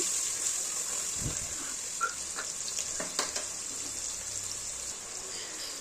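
Halved prawns fry for a pasta dish, giving a steady, close sizzling hiss with a few soft pops and faint stirring knocks and no talking.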